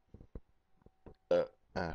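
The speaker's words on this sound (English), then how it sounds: "pardon me, I had to burp" A single human burp, loud and close, breaking out in two throaty bursts after a few soft mouth clicks and quiet breaths.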